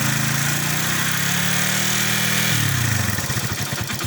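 Motorcycle engine with a three-phase stator coil being tested, running loud and close with a rough droning idle that shifts pitch at mid-clip as the throttle opens, its firing pulses becoming more distinct toward the end.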